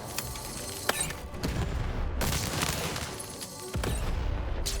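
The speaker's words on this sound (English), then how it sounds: "Shoot the button to fire the cannon." Cannon fire in the video game Lost in Random, a series of booming blasts and crackling impacts over busy game noise, with several sharp hits spaced through the stretch.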